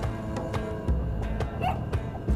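A small video-game puppy in Spelunky 2 gives soft whimpering yips, a few brief thin cries scattered over steady background game music and sound effects.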